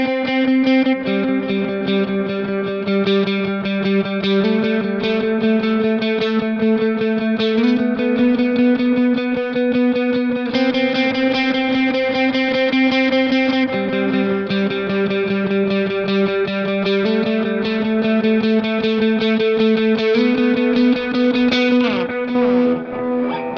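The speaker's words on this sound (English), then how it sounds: "And when you turn all the stuff on with the delay on, it sounds like this." Electric guitar with a delay effect plays a sustained worship-song riff, repeating notes and chord changes echoing into each other, loud and steady throughout with no speech.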